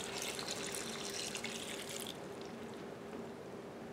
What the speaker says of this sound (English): and then I'm gonna put a couple of cups of water.